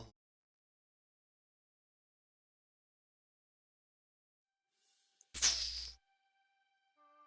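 A single short, sharp sneeze bursts out after long near-silence, loud and close, followed by faint quiet sounds as a tabletop game session pauses.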